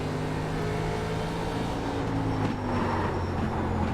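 Race car engine in iRacing during a time-trial run at Myrtle Beach, a steady loud drone of engine harmonics that rises slightly in pitch as the car accelerates, with no talking over it.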